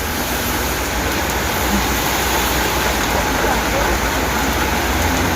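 Steady, dense hiss of rain falling, constant and enveloping with no breaks, a broad wash of noise close around the listener.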